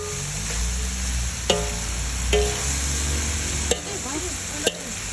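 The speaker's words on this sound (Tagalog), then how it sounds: "ihalo na natin ang halo-halo together o mix na toge" Mixed vegetables with bean sprouts, cabbage and pechay are stir-fried in a pan, with steady close sizzling and several sharp knocks and scrapes of a utensil against the pan.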